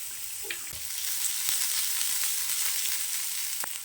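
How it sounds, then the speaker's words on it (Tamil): Onions sautéing in a little oil give a soft, even sizzle, a quiet continuous frying hiss with occasional faint ticks and pops. "வெங்காயம் நல்லா வதங்கட்டும்"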